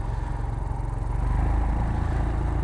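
A motorcycle engine runs on a rough road in Nepal just after being restarted, a close, steady low throbbing rumble with a fast pulsing beat.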